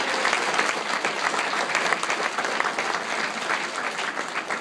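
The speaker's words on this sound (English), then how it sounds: "Let's give them a big round of applause" A conference audience breaks into strong, continuous applause for early members in the crowd, many hands clapping steadily for several seconds without speech.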